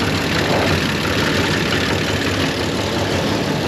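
The engine of a 1930 International fire truck runs at a steady idle, loud and close with a rough, continuous drone and no voices.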